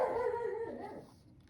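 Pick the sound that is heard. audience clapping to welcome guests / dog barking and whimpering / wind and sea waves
dog barking and whimpering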